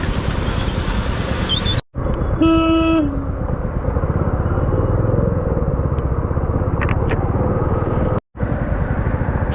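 Loud, constant traffic rumble at a jammed signal with rickshaws, engines close by, cut by a single sustained car horn blast near the start; the roar continues throughout.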